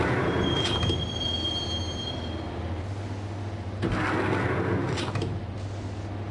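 Metal wheels squeal loudly over a steady rumbling of a moving train in the video game Max Payne, with high screeches rising and fading over a constant low drone.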